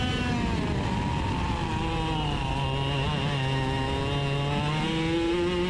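A racing kart engine screams continuously through a race, its pitch rising and dipping with throttle changes, loud and close with no talking.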